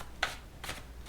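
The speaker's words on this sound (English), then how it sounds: "I'm going to shuffle a little bit." A deck of cards being shuffled gives three soft, quick riffling bursts at an even pace, close by and quiet, with no voices.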